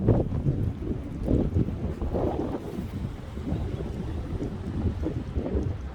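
Strong gusty wind during a high wind warning, roaring and buffeting the microphone in continuous loud, low rumbling surges.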